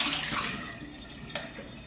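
Water pours out of a Waterpik reservoir into a sink, a brief soft splashing trickle that tapers off, with one small clink near the end.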